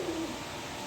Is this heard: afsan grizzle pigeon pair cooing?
yes